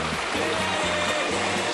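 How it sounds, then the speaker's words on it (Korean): A stream flows beside a mountain footpath, a steady close rushing and gurgling of water that continues alone without pause. "인도 옆에 개울이 이렇게 있네"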